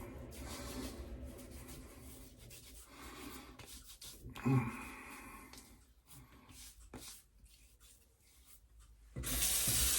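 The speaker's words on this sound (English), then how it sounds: "Rinse my hands." Hands rubbed and rinsed under a running tap during a wet shave, water hissing softly with wet rubbing and a brief splash, ending in a louder burst of flowing water.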